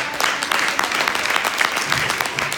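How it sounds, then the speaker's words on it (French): Audience at a hypnosis show in Carantec applauding a volunteer named Mathias, dense clapping from a room full of people with faint voices underneath. "Je pense qu'on peut applaudir Mathias."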